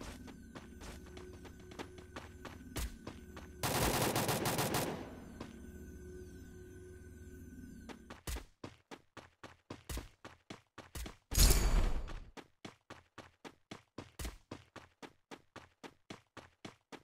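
Gunfire in a shooter video game: sharp shots in a steady rapid rhythm, with two louder bursts of dense fire standing out, loud and close over a low hum.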